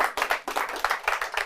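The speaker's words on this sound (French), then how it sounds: "Alors on applaudit hein," A small audience at a live music show claps steadily in a quick, even rhythm. The claps are fairly close and distinct, with roughly a dozen strokes in a short burst.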